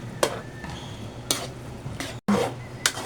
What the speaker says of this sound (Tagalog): Haluin ko lang ito mabuti